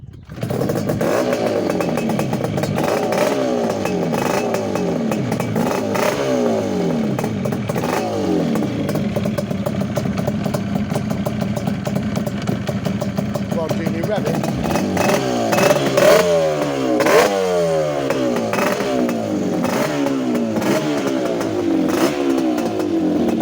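A freshly rebuilt Suzuki-style LC two-stroke motorcycle engine starts and revs, loud and close, its pitch sweeping up and down repeatedly as the throttle is blipped, with voices talking over it.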